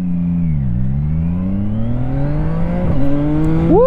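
A 2025 CFMOTO 675NK motorcycle engine revs hard close by, pitch dipping briefly then climbing steadily, with a quick quickshifter upshift near the end.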